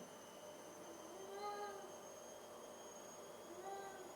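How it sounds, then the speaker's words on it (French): A cat meows twice, faint and drawn-out, with a pause between calls over a quiet indoor hum. "mes chats sont toujours en train de miauler"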